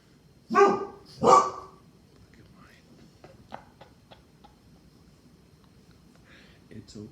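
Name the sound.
dogs barking next door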